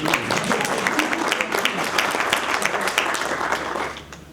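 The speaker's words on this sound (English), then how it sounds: "You want to clap hands?" An audience at a university inaugural lecture claps hands, a dense stream of individual claps that stays steady, then thins and fades toward the end.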